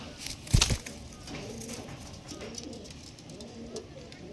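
Pigeons of a prized fancy breed coo softly and intermittently nearby, after a brief loud flurry, under a quiet background.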